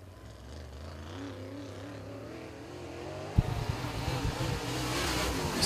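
Open-wheel modified race cars qualifying at 411 Motor Speedway. A steady engine drone rises into a loud, close roar midway through as a car passes.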